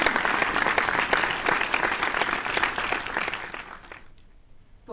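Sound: applause for new graduates at commencement

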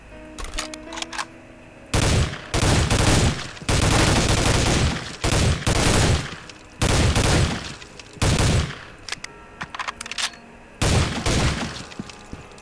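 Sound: shotgun fire in Soldier of Fortune II video game

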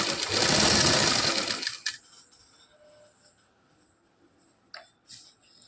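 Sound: sewing machine stitching salwar side seam

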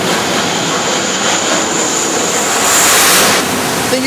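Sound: planes landing on aircraft carrier

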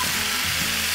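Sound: stir-frying young radish greens and bean sprouts in a pan

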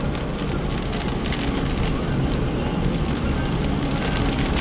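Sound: heavy rain downpour heard while driving

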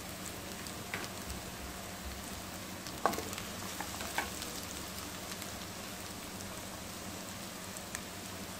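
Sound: cut mutton added to hot pan with onions, frying

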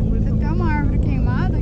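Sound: Yamaha XJ6 motorcycle engine running

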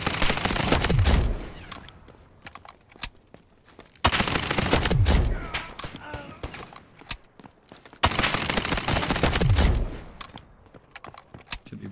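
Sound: Uzi gunfire in video game Delta Force Mobile

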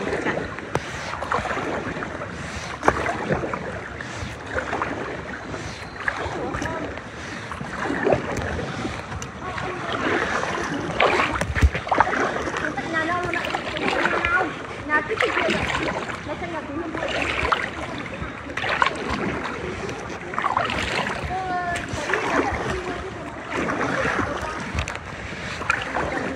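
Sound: rescue boat being rowed through floodwater

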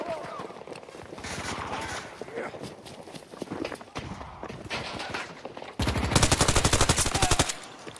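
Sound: gunfire in the video game Battlefield 2042

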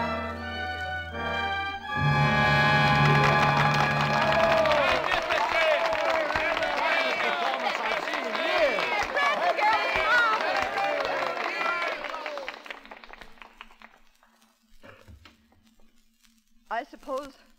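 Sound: theatre audience applause

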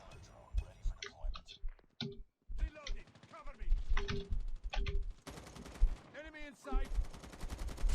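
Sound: gunfire in Call of Duty Mobile video game

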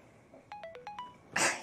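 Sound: mobile phone message notification sound

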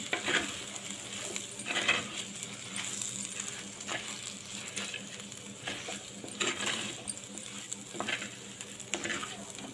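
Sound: stirring spices in a clay pot

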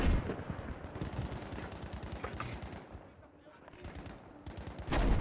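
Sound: machine gun fire in Battlefield V video game

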